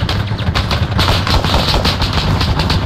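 Sustained gunfire from the Arma 3 video game, loud and continuous, with rapid overlapping shots forming a dense rattling roar that holds steady across the whole stretch, with no talking.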